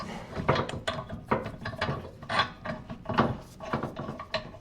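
A ratchet tightens the top nut on a vehicle's suspension while fitting lowering springs. The clicking comes in quick, uneven bursts, close up and fairly quiet.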